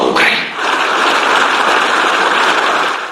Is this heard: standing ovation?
yes